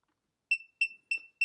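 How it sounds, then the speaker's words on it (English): An ANCEL PB600 automotive circuit tester probe gives four short, evenly spaced electronic beeps, clear and close in otherwise silent surroundings. "So here's positive beep, negative beep."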